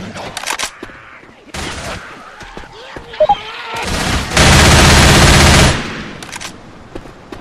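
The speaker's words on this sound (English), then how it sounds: "They shoot me, man!" Rapid gunfire from the zombie shooter game Left 4 Dead 2: bursts of automatic weapon fire, a couple of sharp single shots and a long, loud sustained volley, close and dominant with little else audible.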